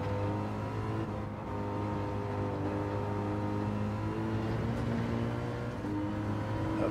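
Race car engines in a Gran Turismo 7 online race, a steady droning engine hum with layered harmonic tones from nearby cars, holding fairly even level with slight pitch shifts as cars accelerate.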